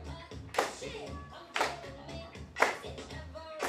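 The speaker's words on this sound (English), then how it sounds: "Clap like this." Three sharp hand claps spaced about a second apart, close and distinct, with soft background sounds between them.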